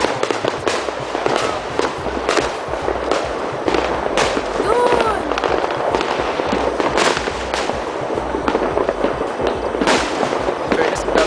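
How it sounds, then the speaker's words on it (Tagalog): Fireworks bursting in repeated sharp cracks and booms over a crackling rumble, some whistling rises, while excited voices talk and exclaim throughout. "madami tayong budget ngayon sa fireworks"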